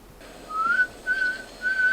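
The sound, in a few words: human whistling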